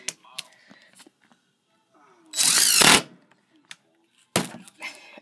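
A DeWalt 20V cordless drill drives a screw into plastic in one loud whirring burst of about half a second, with a second short burst near the end. Sparse clicks and handling noises fill the gaps.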